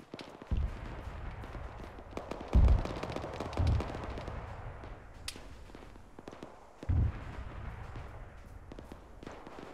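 Airsoft gunfire during a military simulation operation, a few loud muffled pops and bursts spread irregularly over a steady outdoor background, sounding moderately close, with no talk.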